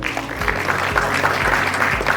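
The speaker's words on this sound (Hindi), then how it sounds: "तालियों के साथ हम स्वागत करेंगे एक उम्दा लेखक और पूर्व डीजीपी उत्तराखंड" Audience applause welcoming a former Uttarakhand police chief and author to the stage at a book launch event. Steady, dense clapping holds throughout at moderate loudness, with no talk over it.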